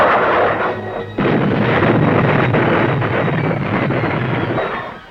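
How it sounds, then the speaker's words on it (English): Bombs dropped from low altitude explode in a heavy, sustained roar, one loud blast after a brief lull swelling into a continuous rumbling barrage that fades at the end. "Pilots can deliver tons of bombs at low altitude and with pinpoint accuracy."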